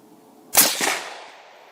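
A CVA Cascade XT rifle fires a single loud, close shot while being sighted in at a range, a sharp crack followed by a rolling echo that fades over about a second.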